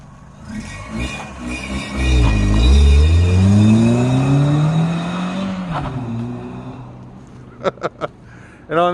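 A car engine revs hard as the vehicle pulls away after a SeaFoam treatment. The roar climbs steadily in pitch and stays loud and close for several seconds, then drops off, followed by a few sharp clicks at the end.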